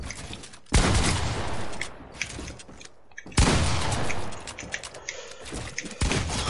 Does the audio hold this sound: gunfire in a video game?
yes